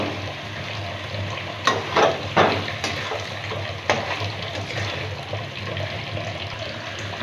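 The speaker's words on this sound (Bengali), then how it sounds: "এবার আমি পটলগুলো আর ডিমটা দিয়ে দেবো।" Chopped pointed gourd and egg going into a pan of fried spice paste, giving a steady sizzle with scraping stirs and a few louder splashy bursts from close by.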